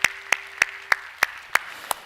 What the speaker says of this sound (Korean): 우리 하나님께 영광의 박수합시다